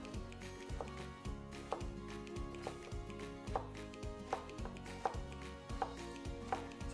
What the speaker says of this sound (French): La première étape va être de couper les courgettes.